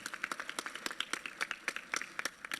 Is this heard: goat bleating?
no